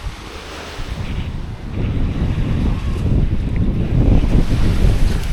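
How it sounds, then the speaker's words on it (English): Sea waves wash onto a sandy beach at Camp de Mar, Mallorca, under steady heavy wind buffeting the microphone, making a continuous loud rumbling roar that builds slightly toward the end, with no voices. "Yeah, we've got a few waves."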